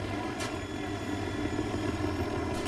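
A helicopter in the Battlefield 2042 shooter drones steadily with a low rotor thrum and engine whine, continuous and moderately close, with no speech.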